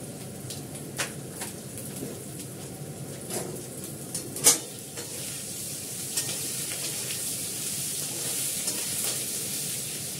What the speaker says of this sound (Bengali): আলুটা ভালো ভাজা হয়ে গেছে